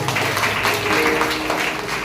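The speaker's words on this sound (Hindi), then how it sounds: "उसके लिए हम ताली बजा सकते हैं" A church congregation claps hands together in a steady, dense patter of many palms, moderately loud and continuous, without any clear speech.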